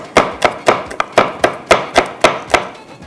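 A knife chops food on a cutting board in about ten even, close, sharp strokes during cooking, with no talk over them.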